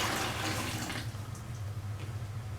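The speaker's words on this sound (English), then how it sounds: "So I'm going to pour some water in it." Water pours steadily into a bucket for a hobby dip-painting setup, a broad continuous splashing rush that eases slightly after the first second, with no talk.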